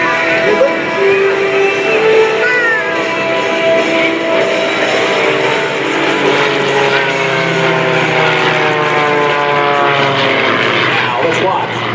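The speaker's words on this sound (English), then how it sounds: "Watch as both aircraft are going straight away." Propeller aerobatic aircraft fly a routine at the 2019 Dover AFB Open House airshow, their engines droning and sweeping in pitch as they pass, loud and steady throughout, with an announcer's commentary over the top.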